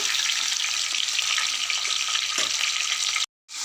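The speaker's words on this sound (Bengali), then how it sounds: "দেখো মাছগুলো ভাজা চলছে" Large fish pieces and fish heads fry in oil in a pan over a wood-fired stove, a steady, close, loud sizzle that cuts off abruptly near the end.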